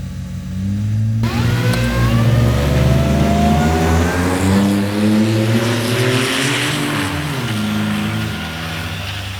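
A Jeep Wrangler Rubicon with a supercharged 3.8-liter V6 drag races a Chevy Colorado ZR2. Loud, close engines rev hard and shift repeatedly, their pitch stepping up through the gears in a sustained roar with no talk.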